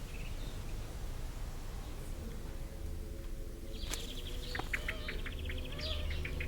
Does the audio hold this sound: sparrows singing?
yes